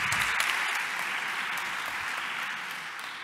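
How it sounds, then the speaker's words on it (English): An audience at a conference presentation on an EU project breaks into dense, even applause that holds steady for several seconds before easing slightly at the end. "You can also give a round of applause and a warm welcome."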